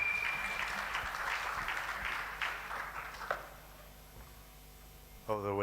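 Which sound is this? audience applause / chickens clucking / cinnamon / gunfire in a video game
audience applause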